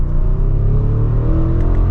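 A 2023 Audi SQ7 Prestige twin-turbo V8 revs steadily and close, a loud, continuous engine roar whose pitch climbs gradually, with no one talking.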